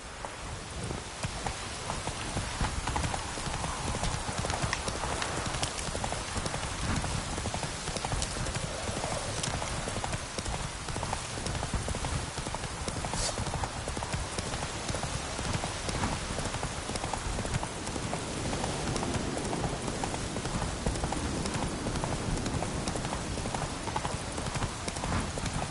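Roach the horse gallops in The Witcher 3, with a steady, loud clip-clop of hooves running unbroken over a rain-like wash of ambient noise.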